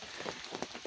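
Heavy rain pours down at a woodland camp, a dense, steady hiss of drops pattering on surfaces, close and continuous.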